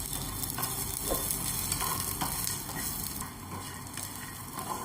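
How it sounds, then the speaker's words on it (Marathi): Garlic cloves and ginger sautéing in a pan for an Indian brinjal and potato dish, a steady, dense sizzle of frying with faint scraping stir sounds throughout. "आता हे आपण 1-2 मिनिटं परतूया याच्यात।"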